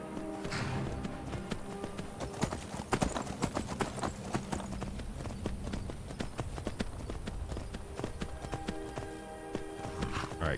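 Horse hooves clip-clop steadily while riding in the video game Skyrim, a continuous fast rhythm of close taps over terrain, lasting throughout with no talk.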